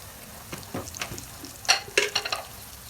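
Potatoes with turmeric cooking in a pan for batata poha, a low frying sizzle with several sharp clinks and scrapes of a utensil against the pan, fairly close and without talk.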